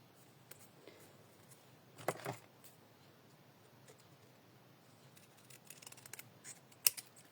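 Scissors snip through folded card paper for an accordion easel card in a few faint, sharp cuts, with quiet handling noise between them in a still room.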